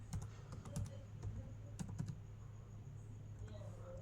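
Rapid keyboard typing: bursts of light clicking keys, close up, over a low electrical hum, then fading to quiet near the end.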